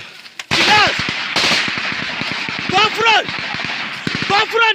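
Gunfire during an armed clash in Nigeria, sharp rapid bursts of shots ringing out loud and close in repeated clusters, mixed with shouting voices throughout.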